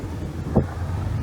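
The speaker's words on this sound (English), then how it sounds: "You can probably hear all the traffic in the background." Low, steady road traffic rumbles in the background beside a small urban carp pond near a bridge, blending with wind noise on the microphone, with no talking.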